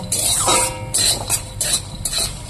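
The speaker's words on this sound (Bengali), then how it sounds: "বন্ধুরা ডালের বড়াটা দিয়ে দিয়েছি ভাজার জন্য" Lentil fritters (daler bora) frying in mustard oil in a wok (kadai), a steady sizzle with bursts of bubbling and a few clinks of a utensil against the pan.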